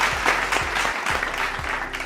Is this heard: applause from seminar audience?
yes